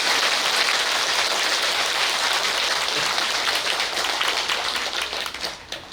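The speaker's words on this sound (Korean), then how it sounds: "그러면 요 부산 분들은 박수 한번 안 쳐주나?" A crowd at a Buddhist dharma talk at Beomeosa temple in Busan claps together, a loud, close, sustained wash of applause that thins out toward the end, no talking over it.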